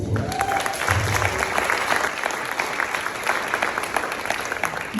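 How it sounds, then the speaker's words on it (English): Audience applause at a tenth-anniversary charity gala for a child water-safety foundation, a steady broadband patter of many hands filling the room for the full five seconds, with a faint voice briefly audible at the start. "let's give a round of applause to our MC tonight, DJ Classics."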